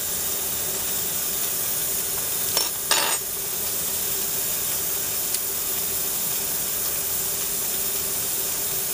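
Stevia extract simmering in a pan while cooking, a steady close hiss of steam and faint sizzling with a couple of brief clinks of a utensil.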